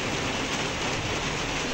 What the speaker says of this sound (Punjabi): ਮਾਸ਼ਾਅੱਲਾ ਬਾਰਿਸ਼ ਤੇਜ਼ ਹੋ ਗਈ ਆ